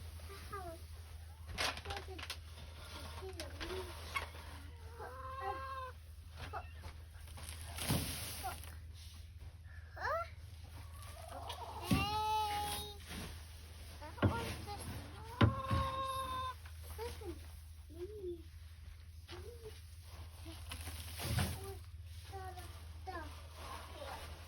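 Chickens clucking and calling intermittently inside a small chicken house used as a brooder, scattered soft clucks and a few louder squawks, with someone talking over them and faint background hum.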